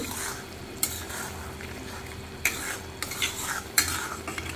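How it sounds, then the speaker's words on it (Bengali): A spoon scrapes and stirs snakehead fish curry in a pan over a soft, continuous sizzle, with a few sharper clinks against the metal. "এই যে আমি মাছগুলো আবার একটু নেড়ে দিচ্ছি।"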